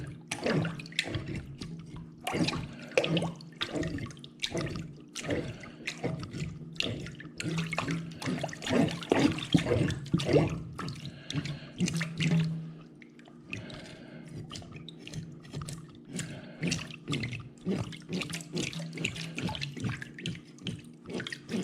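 A whole white bass being scaled in a sink of water, with continuous splashing, scraping and trickling punctuated by irregular scrapes and drips, close and fairly loud throughout.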